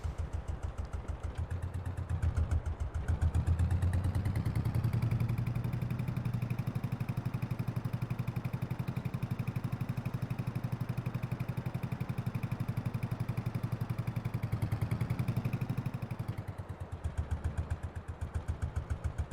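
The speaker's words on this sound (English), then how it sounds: "The world's slowest tractor." A chugging tractor engine in Farming Simulator 22 runs steadily at low revs in third gear for a long stretch, with a rough rhythmic clatter and no talking.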